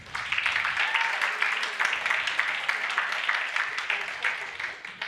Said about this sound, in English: So let's give everyone a round of applause.